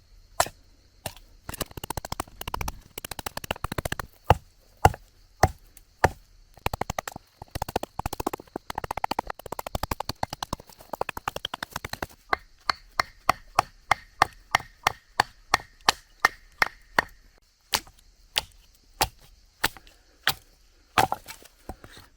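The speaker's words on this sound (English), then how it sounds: "Would I be able to whittle off the edges accurately enough without destroying this piece of wood?" A Fiskars IsoCore builder's axe whittles the edges off a piece of wood with a long series of sharp, close chopping knocks, quick and dense at first, then spaced into a steady rhythm of separate strikes near the end.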